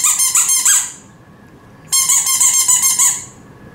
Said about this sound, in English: the squeak is really loud. I will squeak that.